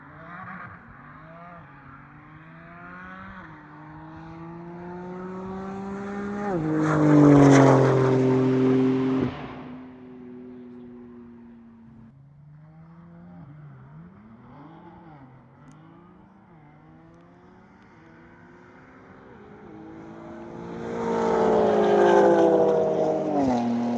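Cars launch in a drag race at a private track, engines climbing in pitch through gear changes as two loud passes build and fade, with a quieter revving stretch between them and no talk.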